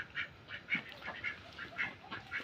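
A flock of egg-laying ducks quacks softly in a steady, repeating series of nasal calls, fairly faint and heard without talk.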